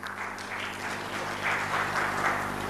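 Conference audience applauding at an e-commerce marketplace event, a dense, even wash of many hands clapping in a large room, steady and moderately loud for a few seconds.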